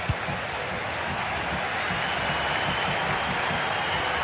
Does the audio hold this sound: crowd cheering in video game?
yes